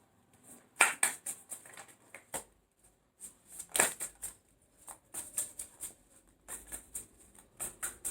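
Tarot cards are shuffled and handled up close, making quiet papery riffles, flicks and soft slaps in uneven bursts, with no talking.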